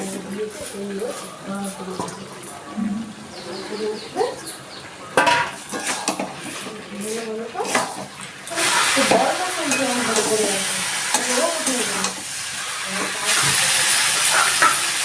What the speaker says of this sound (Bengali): এবার আমি ইঁচড় আর আলুটা এর মধ্যে দিয়ে দিচ্ছি